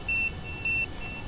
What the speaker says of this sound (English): Damn it, can I turn the alarm off?